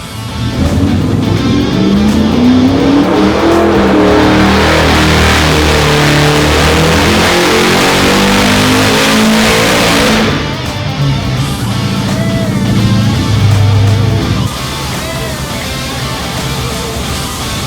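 A Gen-III Hemi V8 on an engine dyno at Late Model Engines runs a loud, sustained pull, its rising harmonics climbing for about ten seconds before the revs drop back to a rougher, lower idle-like rumble.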